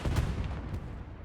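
Artillery fire in the video game Hell Let Loose, a heavy boom at the start followed by a rumbling decay and a fainter second thud, heard at a distance.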